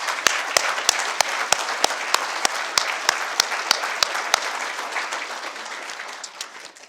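An audience at an alumni award event applauds students seated at the back, brisk crowd clapping punctuated by sharp, rhythmic unison claps that thin out and fade toward the end.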